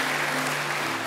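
Congregation clapping during a church worship service, a dense, steady wash of applause filling the whole moment at an even level.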